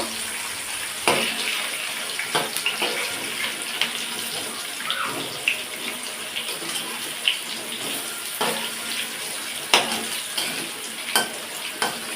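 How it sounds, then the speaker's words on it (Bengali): Potatoes frying in a pan as they brown for a meat curry, giving a steady sizzle with scattered stirring scrapes and clicks throughout, close by with no voices. "আলুটা একটু লাল লাল করে ভেজে নেব।"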